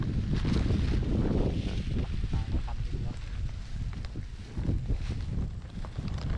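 Strong wind gusts outdoors on a cold, rainy day by a rice field, buffeting the microphone with loud, continuous rushing and rumbling noise throughout.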